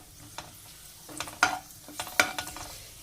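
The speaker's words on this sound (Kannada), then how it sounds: "ಗೋಡಂಬಿನೂ ಅಷ್ಟೇ ಲೈಟ್ ಬ್ರೌನ್ ಕಲರ್ ಬರಬೇಕು, ಅಲ್ಲಿವರೆಗೂ ಒಂದು ಸ್ವಲ್ಪ ಚೆನ್ನಾಗಿ ಫ್ರೈ ಮಾಡ್ಕೊಳ್ಳಿ" Cashews and raisins fry in a pan with a soft, steady sizzle, broken by a few louder scraping stirs of the spoon against the pan.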